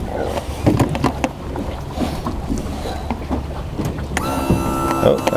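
Outboard motor's trim-tilt unit driven by relays on a slightly flat battery, a whirring electric motor with clicks as it runs one way, stops, then starts again with a higher, steadier hum near the end.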